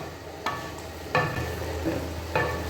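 Mutton stir-fried in a karahi, with a steady background sizzle broken by three distinct scraping stirs of the spoon against the pan.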